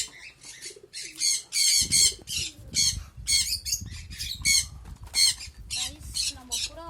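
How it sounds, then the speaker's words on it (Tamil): Pigeons in a home loft give a rapid string of squeaky, chirping calls, close and fairly loud, one after another with short gaps, over a low rustling background. "நம்ம புறாவை பார்த்தீங்களா"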